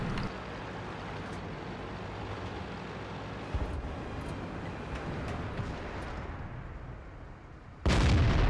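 Tank gunfire from an AMX CDC in an online tank battle game, a long rumbling roar of engine and battle noise with a few sharp cracks, ending in a loud, heavy blast near the end.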